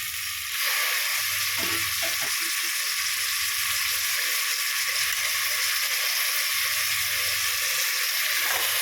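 A handful of mint and coriander leaves sizzles loudly in hot oil with softened tomato and onion for veg biryani. Steady, close frying hiss runs throughout, with rhythmic stirring scrapes repeating every second or so.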